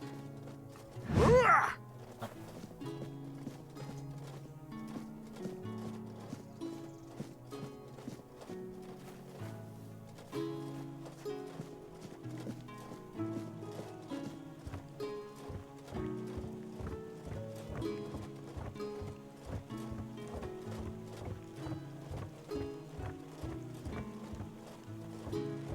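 A horse's hooves clip-clop in a steady trot in the video game Tainted Grail: Fall of Avalon, the beat running continuously under game music, with a brief loud whoosh or snort near the start.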